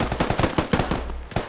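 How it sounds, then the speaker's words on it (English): Rapid automatic gunfire in the video game Squad crackles as a quick burst of about a dozen sharp, loud shots in under a second and a half, close by, with no voices. "He's taking a shot at Hanu."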